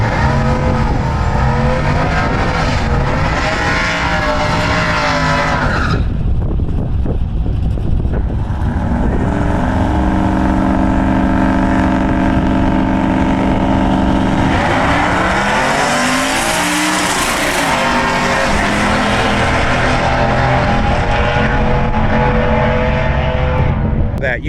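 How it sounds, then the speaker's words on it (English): A drag car's transmission at a drag-and-drive event in Lapeer gives a whooshing release like a turbo blow-off valve opening, amid loud, continuous engine roar and revving that swells and fades throughout. "It's the blow-off valve opening up"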